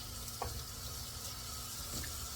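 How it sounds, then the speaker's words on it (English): Shrimp cook in a hot pan over medium-high heat, giving a faint, steady sizzle with a couple of soft clinks or stirs. "To start cooking my shrimp"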